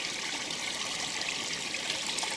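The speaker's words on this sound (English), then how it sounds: "This water is moving, so it feels a bit safer." Mountain stream water on the Baw Baw Plateau trickles and rushes steadily at close range, a continuous bright wash of moving water with no voices.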